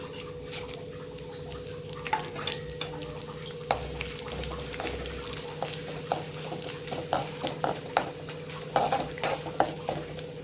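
Cinnamon sticks and cloves being stirred and sautéed in hot oil in a pan, a low steady sizzle under repeated clinks and scrapes of a spoon against the metal, with no talking.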